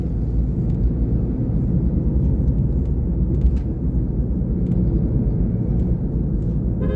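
A car drives along a hilly road through the Satkosia gorge, its steady low engine and road rumble continuous and fairly loud throughout, with no talking.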